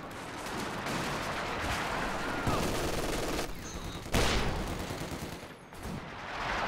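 Machine gun fire from a Company of Heroes 2 match, a dense, continuous clatter of gunfire and battle noise with sharper bursts and explosions standing out, loud and busy throughout.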